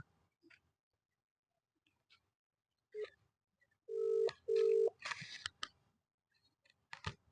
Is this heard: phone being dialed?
yes